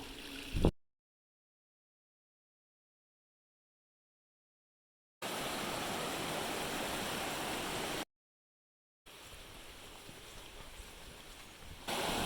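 Water of the Rio Macho in Costa Rica rushing and flowing, a steady broadband roar heard in two separate stretches with silent gaps between them.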